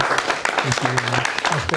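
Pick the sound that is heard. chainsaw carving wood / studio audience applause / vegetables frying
studio audience applause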